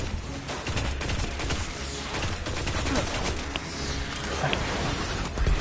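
Sustained rapid gunfire in the sci-fi shooter Destiny: Rise of Iron, loud, continuous crackling volleys with no break across the clip.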